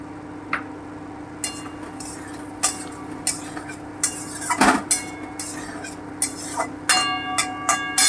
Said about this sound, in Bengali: এবারে আমি কাঁচা কলা ভাজাটা দিয়ে দিচ্ছি